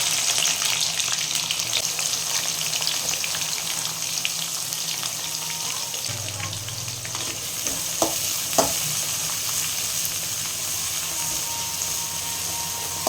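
Steady sizzling of onions sautéing in a hot pan, with a few soft clinks of stirring partway through. No voices.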